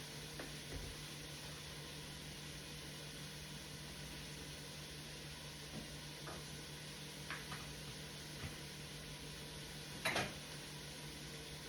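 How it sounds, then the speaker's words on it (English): Vegetables sauteing in a skillet for Italian spaghetti give off a faint, steady sizzle throughout, with a few soft clicks and a brief clatter near the end. "Y'all keep an eye on that skillet there, that pot that's sauteing the vegetables"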